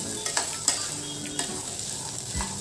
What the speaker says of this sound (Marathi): व चणे देखील आपल्याला छान तेलामध्ये परतून घ्यायचे आहे.